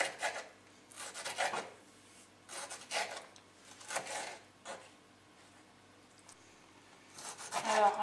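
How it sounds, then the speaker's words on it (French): A serrated knife saws tomatoes into small dice on a board, heard as separate bursts of rasping strokes with short pauses between them, close and fairly soft with no talking. "j'utilise un couteau à dents. Ça paraît bizarre, je sais pas. Mais en tout cas, c'est beaucoup plus efficace pour couper les tomates"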